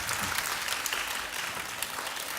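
Steady applause from an audience at a children's composition recital, a dense even clatter of clapping hands throughout, moderately loud and without voices.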